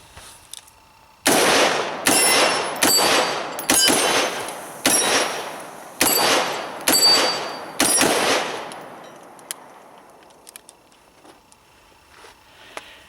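A Smith and Wesson M&P Tactical AR15 rifle fires about eight sharp, loud shots at an irregular, fairly quick pace, each followed by a ringing outdoor echo, then a quiet tail with faint clinks.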